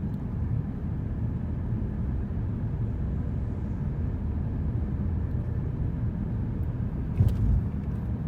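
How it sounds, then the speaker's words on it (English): Steady, low tire and road rumble inside a 2017 Nissan Rogue cruising after a rear wheel bearing replacement, a smooth even drone with a brief bump near the end and no talking. "you can hear that there's almost no noise, just the normal tire and road noise"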